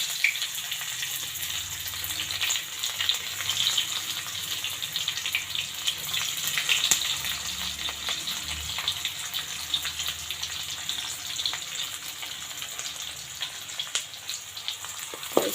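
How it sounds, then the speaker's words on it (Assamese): Onions frying in oil with bay leaves in a wok, a steady broadband sizzle and crackle that holds throughout at moderate level with no talking. "পিঁয়াজখিনি ভজা হৈ গ'ল"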